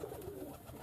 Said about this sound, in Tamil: இந்த புறா நம்ம பழைய புறா